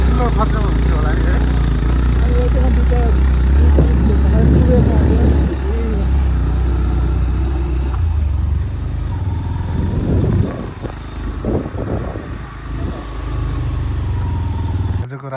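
A motorcycle ridden up a rough monsoon mountain track toward Latarameshwar, its engine loud and close, droning and shifting in pitch as it labours along, with voices talking over it at times.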